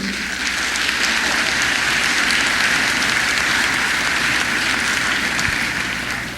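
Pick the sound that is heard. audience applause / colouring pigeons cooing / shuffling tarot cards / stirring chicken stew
audience applause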